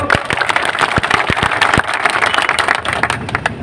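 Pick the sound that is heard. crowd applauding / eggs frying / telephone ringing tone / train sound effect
crowd applauding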